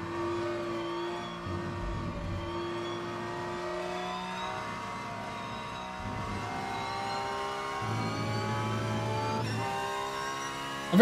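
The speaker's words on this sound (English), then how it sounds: "I think the Porsche actually sounds pretty decent." Porsche race car engine in the Rennsport racing video game, a continuous tonal engine whine with harmonics rising and falling as it revs through gear changes, steady and moderately quiet without talking.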